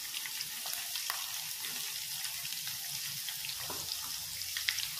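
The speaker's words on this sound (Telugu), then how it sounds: "ఈ అల్లం వెల్లుల్లి పేస్ట్ అనేది సిమ్ మీద పెట్టి ఉడికించుకోవాలి" Ginger-garlic paste cooking on low heat in leftover fish-frying oil, a soft continuous hiss and sizzle with faint occasional stirring clicks, no voices.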